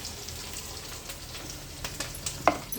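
Ingredients for prawn curry sautéing in a pan, a steady close sizzle with light spattering pops and a few sharper clicks toward the end, no one speaking.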